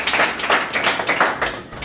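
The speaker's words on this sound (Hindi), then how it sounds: "एक बार ताली बताइएगा सब लोग इनके लिए" A small audience of students and teachers gives a short round of applause for a student, irregular close claps in quick bursts that swell and fade over about two seconds.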